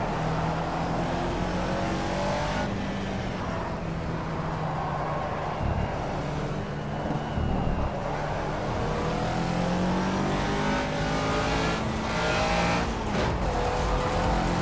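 Race car engines in the video game Project CARS roar and rev continuously, with tire squeals and other cars passing close by, a steady loud racing soundscape with no talking.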